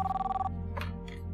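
A telephone rings in a home during a drama scene: a short burst of bright, steady electronic ringing that stops after about half a second, followed by faint rustling noises and a low background hum.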